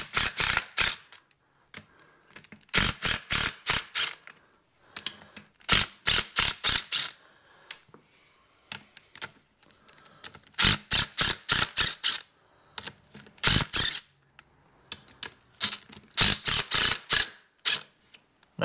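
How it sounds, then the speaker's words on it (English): An impact wrench with a 5/8 socket backs off a bolt on a MerCruiser sterndrive. It fires in repeated short bursts of rapid hammering with brief pauses between them. The wrench is loud and close, and no one speaks. "Now me, I'm going to use my impact to back this off."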